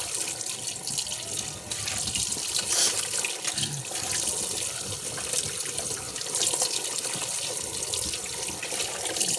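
Tap water runs steadily into a kitchen sink while cooking ingredients are being washed, a constant broadband splashing rush with a few brief clinks and no talking.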